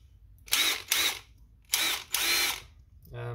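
An Aldi Ferrex cordless drill motor spins up in four short bursts, two quick ones followed by two slightly longer runs, each a close, fairly loud whirring whine with brief pauses between.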